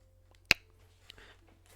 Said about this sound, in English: Should I clap?